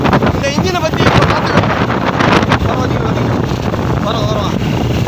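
Outboard motorboats fitted with Yamaha 9.9 and Suzuki engines race across open sea, a steady loud engine drone mixed with heavy wind buffeting the microphone, with voices talking over it.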